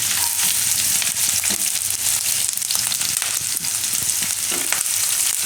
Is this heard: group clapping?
no